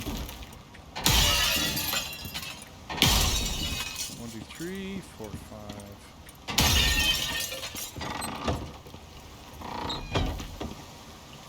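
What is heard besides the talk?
glass panes smashed in video game Icarus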